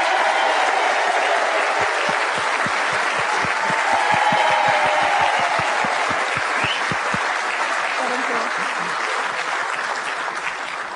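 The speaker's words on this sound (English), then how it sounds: "Ladies and gentlemen, another warm round of applause, please, for a fellow Celt" A live audience at the 2007 Welsh International Open lawn bowls final applauds finalist Paul Foster of Scotland, producing steady, dense clapping that holds at an even level for about eleven seconds with no voices over it.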